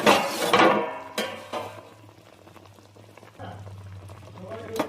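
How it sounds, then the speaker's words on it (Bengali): Fish pieces going one at a time into a simmering Bengali potato and bori fish curry, with soft splashes and clinks of utensils over a low bubbling boil, loudest at the start. "একে একে করে মাছ দিয়ে দেব।"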